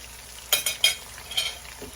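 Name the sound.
stirring frying cauliflower and onions in olive oil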